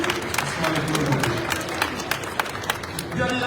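Audience applause from a crowd at a live event, steady clapping with background hubbub filling the moment.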